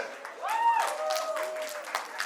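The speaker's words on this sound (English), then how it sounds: "Can we clap louder?" Crowd applause at a mehndi and sangeet wedding celebration patters steadily while a voice calls out over it with rising and falling tones.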